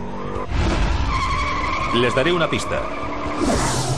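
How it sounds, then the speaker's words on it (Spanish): A Chrysler Hemi muscle car does a burnout, its tires squealing loudly and continuously over a roaring engine, while someone speaks briefly over the noise. "Algo que les encanta hacer a los fanáticos de los muscle cars es dejar en el asfalto un poco de goma de neumático"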